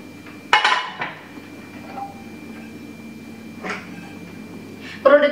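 Terracook cooking pans being handled, with a few sharp metallic clanks and clinks spaced out over a steady low hum, close and fairly loud, one knock at the start and a louder clatter at the end.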